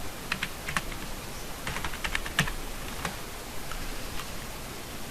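Typing on a computer keyboard while renaming an AutoCAD layout: a quiet, irregular patter of a few key clicks close by, with no speech.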